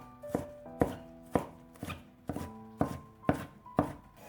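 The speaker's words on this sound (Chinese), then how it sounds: "先给它切成细丝，再改刀切成小丁。" A knife chops a deseeded green bell pepper into small dice on a cutting board. There are about eight crisp, evenly spaced strokes. They are close and distinct, with no voices.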